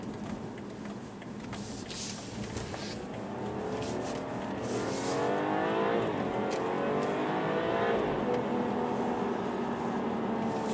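A BMW 540i xDrive (G30) engine revs up steadily, pitch climbing through the gears as it accelerates, loud and continuous with a shift partway through, driving at night in winter.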